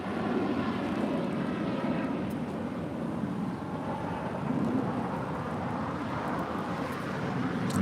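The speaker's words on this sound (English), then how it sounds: "This is 787-10. The Dreamliner is the next departure there on the north side." A Boeing 787-10 Dreamliner departs LAX, its engines producing a broad, continuous rumbling roar that holds steady throughout, heard from a distance with no talking.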